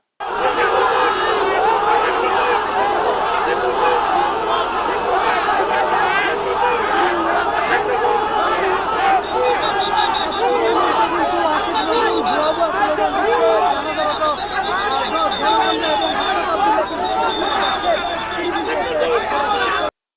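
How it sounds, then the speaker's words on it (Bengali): A large crowd at a Bangladeshi protest shouting slogans in unison: dense, loud, continuous massed voices chanting and clamouring without pause throughout. "কোথাও গেলে পাবলিক আটকায় ফেলে, ভুয়া ভুয়া স্লোগান দেয়।"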